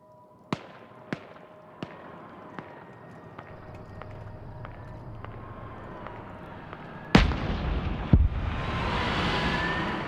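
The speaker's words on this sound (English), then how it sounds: "More SPG-9s firing from range." SPG-9 recoilless guns fire from range in a multiplayer war game, a series of sharp distant reports ringing out one after another, then a louder close blast followed by another burst and a lingering rumble.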